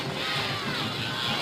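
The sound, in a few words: Spanish Fort football supporters cheering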